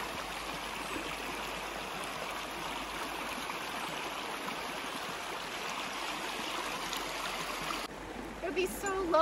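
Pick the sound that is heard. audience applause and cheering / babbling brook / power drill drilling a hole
babbling brook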